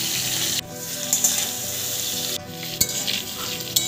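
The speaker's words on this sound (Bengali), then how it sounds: "কড়াইতে সর্ষের তেল গরম করে পটলগুলোকে হালকা ভেজে নেব।" Pointed gourd pieces frying in hot mustard oil in a kadai, a steady loud crackling sizzle with a few sharp spatters and light stirring clinks, close up and without talk.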